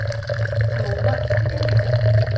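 Boiling water streams steadily into a Wacaco Pipamoka portable coffee brewer, a close, continuous pouring and gurgling fill with light drips, heard alone without speech.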